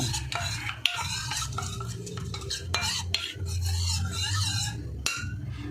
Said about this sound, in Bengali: কর্নফ্লাওয়ারটা দিয়ে আমি একটু মিশিয়ে দেব, ভালো করে মিশিয়ে দেব।